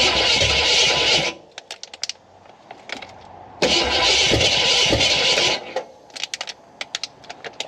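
Old farm truck with a newly fitted engine cranks and catches twice, loud broadband roar for about a second each time, then clicks and rattles as it stumbles between attempts.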